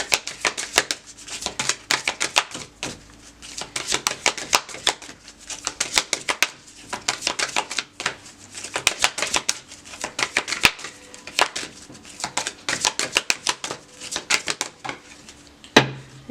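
Tarot cards being shuffled, a steady run of quick papery riffles and flutters that carries on throughout at close range, with no talking over it.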